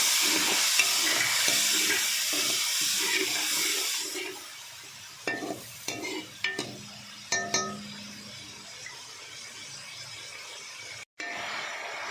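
Spices with salt, red chili and turmeric frying in a pan for chickpea pulao: an early steady sizzle, then scattered stirring clinks and scrapes, with a brief quiet gap near the end.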